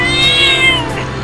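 One loud, close cat meow, long and strongly tonal, sliding in pitch over about a second.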